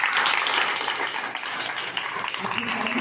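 Congregation at a house church in Patiyala, Punjab clapping for the Lord during a gospel service, a busy, fairly steady wash of hand claps with some voices mixed in.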